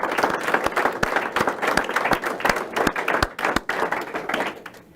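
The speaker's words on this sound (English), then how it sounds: "Can we please have a round of applause for all these businesses and their commitments and their awesome support for our schools." Audience applause at a stadium campaign press conference, steady, moderately loud clapping from a small crowd with distinct individual claps, sustained throughout before tapering slightly at the end.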